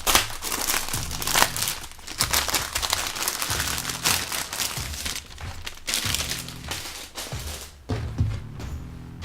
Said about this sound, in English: And we're completely folding a t-shirt.